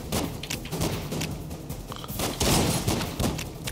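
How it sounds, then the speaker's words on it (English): Rapid gunfire from the side-scrolling action video game Broforce, a dense, loud fusillade of overlapping shots and bursts running continuously with no pauses. "He's shooting your dead body."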